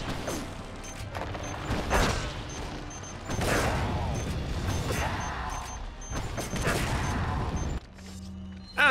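Mine launcher fire in Resident Evil 4, a series of loud crashing impacts and mechanical booms over several seconds, dense game action with occasional faint voice.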